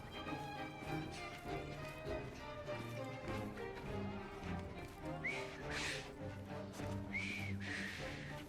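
A character in Assassin's Creed Syndicate whistles a few short rising notes over a quiet game ambience with faint horse hooves.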